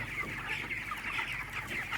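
Broiler chickens clucking in a poultry house where small and large birds are kept together, a steady chorus of overlapping clucks from many birds close by, with no talking.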